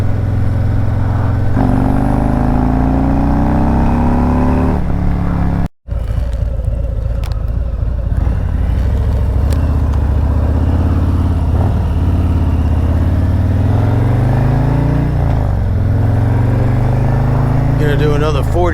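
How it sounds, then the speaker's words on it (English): Car engine pulling hard in third gear from 40 under heavy throttle, loud continuous engine drone rising steadily in pitch, close and dominant throughout. "So I'm in third gear. As soon as I get to 40, I'm going to give it the beans."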